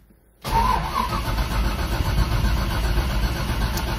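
A 1968 Chevrolet Camaro engine starts after brief quiet, catching abruptly and settling into a loud, rough, steady idle close by.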